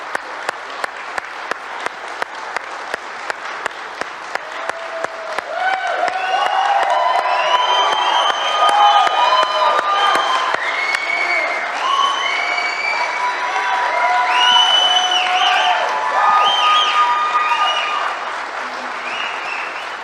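A large audience bursts into sustained applause with cheering and whoops at a political talk, starting with a few scattered claps and swelling into a loud, continuous ovation that holds steady to the end.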